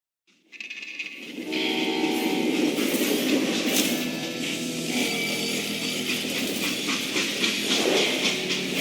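Steam freight train in the Western shooter Call of Juarez Gunslinger fades in from silence, then holds a loud steady rumble with hissing steam and faint rhythmic rail clatter, close and continuous with no talking.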